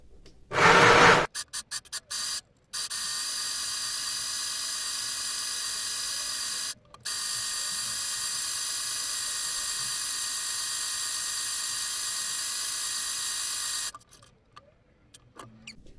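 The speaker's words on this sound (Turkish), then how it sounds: "bunun ortasından dikeceğim" Sewing machine stitching a single seam down the middle of a mosquito net for a Montessori children's bed, running in long steady stretches with brief pauses between, close and alone.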